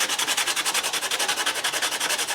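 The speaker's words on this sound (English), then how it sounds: "So get in there and really sand it." Very coarse sandpaper is rubbed hard over a mixed media collage in loud, fast, even back-and-forth strokes, about ten per second, heard close up and on its own.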